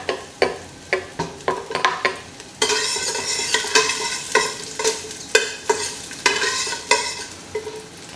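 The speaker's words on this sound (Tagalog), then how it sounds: "So, gisa natin ang bawang." Garlic sautéing in olive oil for pinakbet, a steady sizzle and fry broken by repeated stirring scrapes of a utensil in the pan, close and fairly loud, with no talking.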